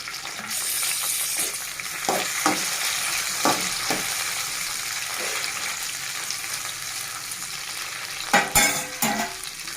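Tomatoes fry in a pan for Andhra-style gongura chutney with a continuous low sizzle. Several scraping stirs come through, and a louder clatter of utensils arrives near the end.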